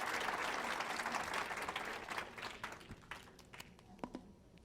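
Audience applause for a speaker at a Spanish-language mental health talk, a dense wash of many hands clapping that starts full and loud, then thins out into scattered individual claps before dying away.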